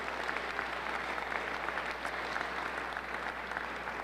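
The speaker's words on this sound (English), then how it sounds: "So let's give them a big round of applause if we can." A town hall audience gives first responders a round of applause, with even, sustained clapping that carries at moderate volume for around four seconds.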